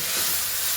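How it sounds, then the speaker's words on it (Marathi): Water poured into a pan of hot misal masala sets off a loud, sharp hissing sizzle and steam burst, steady and close for under a second. "थोडं पाणी टाकलं"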